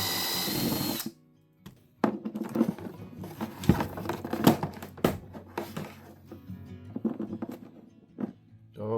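A power drill with a new drill bit whirs in short bursts between pauses, stopping and restarting in close, uneven spurts while wiring a pond prowler boat and fitting lights.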